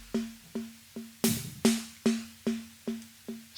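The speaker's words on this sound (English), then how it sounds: "I would like to add another delay that repeats that delay sequence from the first delay, but a little bit later" A plucked synth tone runs through Bitwig Studio delay effects and repeats at a steady pulse of about nine evenly spaced echoes, each decaying quickly. A noisy burst joins the middle repeats.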